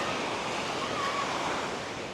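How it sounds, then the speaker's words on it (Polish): Rough, restless turquoise sea sends waves into a continuous broad wash of surf, steady and fairly loud with wind mixed in. "Morze jest niespokojne, ale jest mega czyste woda turkusowa"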